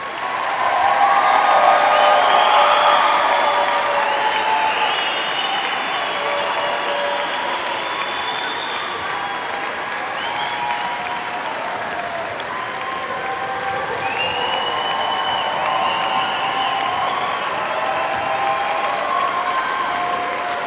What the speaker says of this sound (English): Audience, please join me as we honor all graduates with a well-deserved round of applause.